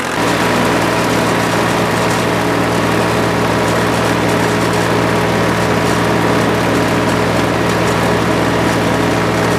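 A tractor mower's engine roars loud and steady while mowing a clover field, a continuous close drone with a constant hum and no talking.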